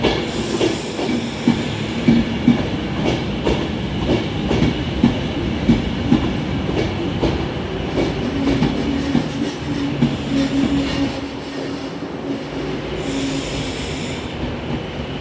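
Electric train 390131 pulls out of Carlisle station on the West Coast Main Line bound for Glasgow Central, its wheels clattering and squealing loudly and steadily with rhythmic clicks, the rumble easing slightly near the end.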